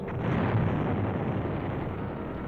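Bombs from a diving Mustang fighter attack exploding on a ground target, a dense, loud roaring blast that swells early and then rumbles on steadily without a break.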